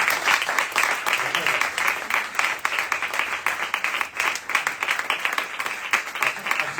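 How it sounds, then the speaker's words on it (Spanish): An audience at a lecture event bursts into sustained applause, dense rapid clapping from many hands filling the room at a steady level, with a voice faintly under it. "Por favor, un aplauso, Rafael."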